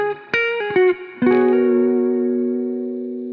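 A short electric guitar riff from a chillhop song: a few quick plucked notes, then a chord rings out and sustains with a soft effected shimmer, clear and close.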